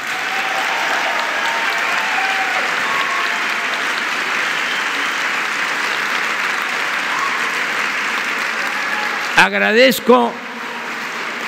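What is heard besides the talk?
loud audience applause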